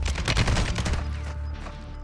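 Rapid bursts of RPK light machine gun fire in Warzone 2.0, loud and close, rattling fast through the first second before easing into a lingering, noisy tail.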